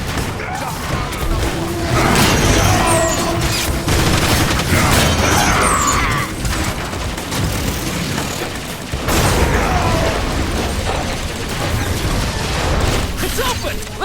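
Vector missiles fire and burst in Transformers: War for Cybertron on PS3, a dense run of booms and crashing blasts over mechanical clatter, loud throughout with a brief lull near nine seconds, while game voices shout over the action.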